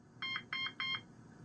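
An Interlogix Concord Express security alarm system gives three short, evenly spaced electronic beeps on arming to away, faint and alone against a quiet background hiss.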